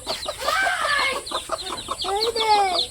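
Hen clucking near a brood of thirteen newly hatched chicks in a village yard, with repeated close clucks and thin peeping calls in quick bursts, clearly audible throughout.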